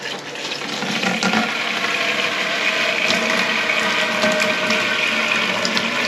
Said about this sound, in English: And then I'm going to hold this and let some water come out.